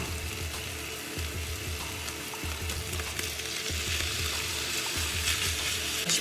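Shrimp and chicken fry together in a pan for shrimp fried quinoa, giving a loud, steady sizzle with a dull bump recurring about every second, and no talking.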